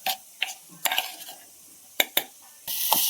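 A spoon stirs spices into onion chutney in a pan, with scattered scraping clinks and taps against the metal and a soft sizzle rising near the end; close and fairly quiet.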